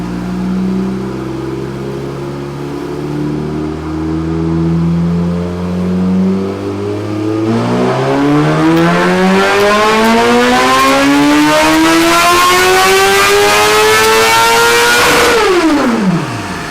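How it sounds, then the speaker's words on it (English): A 2017 Suzuki GSX-R1000 engine on a dynamometer, heat soaked from riding, climbs from a low idle through a long rising rev sweep, howling louder to the top before snapping shut and falling off. "Just for the heck of it, let's try a dyno pull."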